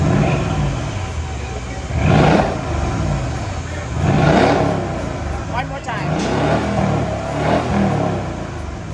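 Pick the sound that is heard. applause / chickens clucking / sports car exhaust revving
sports car exhaust revving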